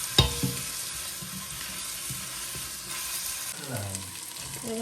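Onion frying in a pan with a little salt added, a steady hissing sizzle with a couple of sharp clinks at the start and a brief stirring scrape near the end, close and fairly loud, no talk.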